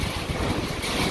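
Strong wind buffeting outdoors during a storm near a farmyard chicken coop, a steady loud roar of gusts rumbling across the microphone throughout.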